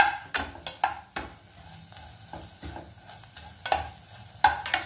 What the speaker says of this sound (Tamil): இந்த முருங்கை காம்பை நம்ம இதில் போட்டுக்கலாம். போட்டு நல்லா வதக்கிக்கோங்க